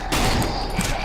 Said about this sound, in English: So I'm shooting the carcass.